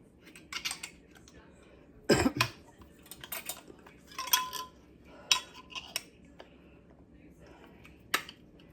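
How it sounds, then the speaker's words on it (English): Metal lids and screw rings being set onto glass canning jars of cowboy candy in a home kitchen, a scattered series of sharp clinks and taps, fairly close, with quiet pauses between. "we're just going to get our lids on, and then we're going to put our rings"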